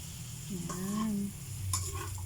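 Squid adobo is stirred in a pan under a steady soft sizzle, with a couple of scraping strokes and faint clinks, close but quiet.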